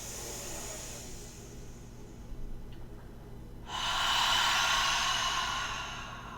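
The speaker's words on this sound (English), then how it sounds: "fully exhale again" A long, forceful exhalation emptying the lungs in a Tibetan breathing practice, a broad rushing breath that swells from about halfway and holds loud and close to the end, after a quieter, hushed stretch.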